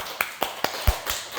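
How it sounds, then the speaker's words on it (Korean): A congregation claps during a church service, a short run of five or so sharp, evenly spaced claps landing together in a steady rhythm. "박수!"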